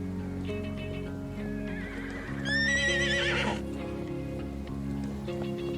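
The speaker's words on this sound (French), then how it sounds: "Un troupeau de chevaux mongols s'est rassemblé près d'un ruisseau peu profond." A Mongolian horse in a herd by a shallow stream in Siberia gives a loud, quavering whinny over a steady low rumble of background noise, with faint calls around it.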